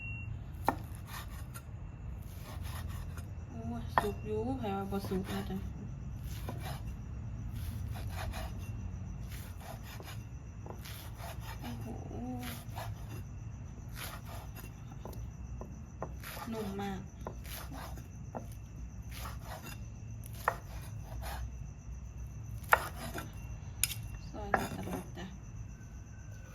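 Grilled pork belly being sliced on a cutting board, cooked in a newly bought grill pot, with repeated soft cutting and scraping strokes throughout, close and fairly quiet beneath someone talking.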